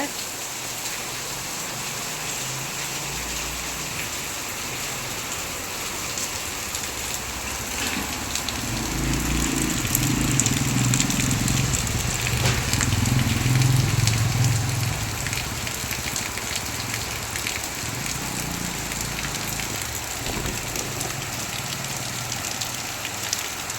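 Steady, heavy rain hisses down without a break while runoff washes onto a road, and a low rumbling murmur swells underneath partway through.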